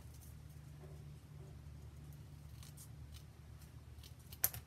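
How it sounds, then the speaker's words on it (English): Scissors make a quick trim through white paper during card making: a single brief, crisp snip near the end, after a quiet stretch of low hum. "Then just do a quick trim with my scissors."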